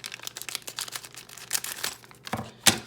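LEGO Batman minifigure blind bag packs are cut open and handled, soft crinkling foil and plastic rustles with a few sharper snips near the end, quiet and close.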